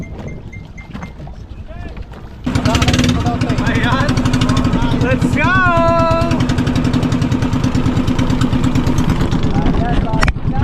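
A tour boat's engine drones steadily and loud from a sudden start, carrying a boat out on the water among the Hundred Islands of Pangasinan, with wind buffeting the microphone and a voice calling out over the motor.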